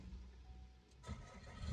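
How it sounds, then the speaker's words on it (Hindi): A Chevrolet Cruze top-model automatic car started by push button with the foot on the brake, a brief starter crank catching into a low engine rumble, heard up close inside the car. "ये गाड़ी स्टार्ट होगी।"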